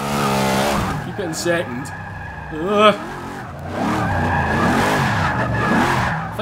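Car tyres screech and skid through a long drift in Forza 6, a wavering squeal over a revving engine, with someone talking over it.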